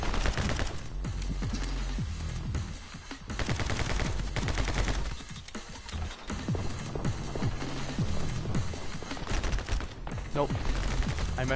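Submachine gun fire in a shooter video game, dense rapid bursts of automatic shots running almost nonstop and loud with short breaks, layered with other game effects.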